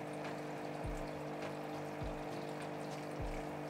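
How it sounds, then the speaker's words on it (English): A liquid pump in a hydroponic water reservoir runs with a steady churning hum, and its intake starts drawing air, giving low gurgles and sucking bursts at roughly one-second intervals. "when the pump starts to gurgle, we need to turn it off because it can't run dry"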